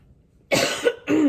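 A person coughs harshly, then clears their throat, two close, raspy bursts following a moment of near silence.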